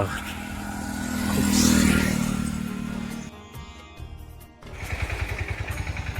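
Vehicles, including motorcycles and cars, pass on a straight road through empty country: an engine roar swells loudly, fades as it goes by, then another rumbling motor approaches close.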